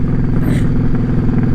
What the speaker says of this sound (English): And it's an L-twin engine. They sound amazing.